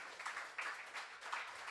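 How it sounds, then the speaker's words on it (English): Faint, distant audience applause fills a short stretch, a steady patter of many hands clapping in a hall after a chairperson is invited onto the dais. "A big round of applause, ladies and gentlemen."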